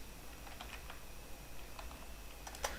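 Soft keystrokes on a computer keyboard while searching for the Scopus journal list in a web browser, scattered light clicks at moderate distance with a sharper tap near the end, over steady low room hiss.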